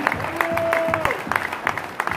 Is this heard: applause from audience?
yes